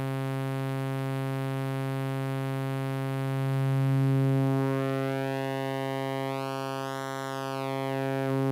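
A Roland System-500 505 dual filter with added resonance, a steady buzzing synth drone whose resonant peak sweeps upward into a whistling, singing tone and back down over several seconds.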